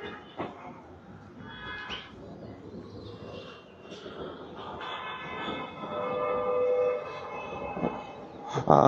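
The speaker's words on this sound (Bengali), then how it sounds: "দর্শক, আমরা এই মুহূর্তে আছি চট্টগ্রাম রেলওয়ে স্টেশন এলাকায়" Ambience at Chattogram railway station on a quiet day with station staff on strike: a steady rumble of rail activity and train noise that slowly swells toward the end, with a long, high siren-like tone rising partway through.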